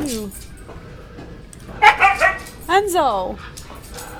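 Dog barking in the video game We Happy Few, a run of sharp yips and whimpering barks clustered in the second half, loud and close over game background noise, with a voice calling out briefly at the start.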